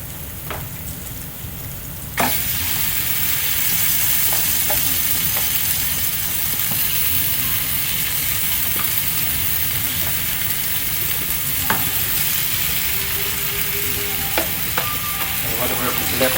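Lamb shanks hit a pan of cooked powdered masalas and fry with a loud, steady sizzle that starts abruptly after a quiet moment, with occasional clinks and stirring noises over the continuous crackle.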